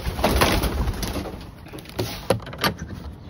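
Racing pigeons coo softly in a loft, close by, with low throaty bursts, wing flutters and a few knocks against a steady background.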